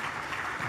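Audience applause for the CEO of the Ghana Gold Board, a brief, continuous burst of many people clapping together.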